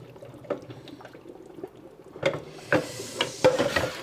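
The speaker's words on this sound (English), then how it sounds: "gently pour out the hot water without burning yourself." Hot water poured off a pot of boiled eggs, starting with scattered drips and taps, then breaking into louder bursts of splashing liquid near the end.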